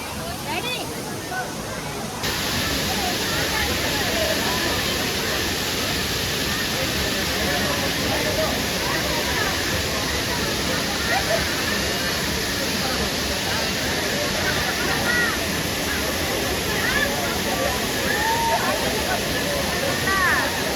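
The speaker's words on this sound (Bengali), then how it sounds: "এইখানে জলের পুরো ঝাপটাটা এখানে আসছে পুরো ঠান্ডা" Waterfall spray near Gangtok, a loud, continuous roar of falling water close by, with voices faintly mixed into the rush.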